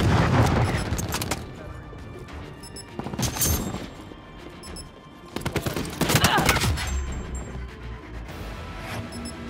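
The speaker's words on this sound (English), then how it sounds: "Throwing cluster grenade." Black Ops 4 match with a cluster grenade thrown and bursting in several rapid blasts amid loud bursts of gunfire, booms coming in clusters with short gaps between them.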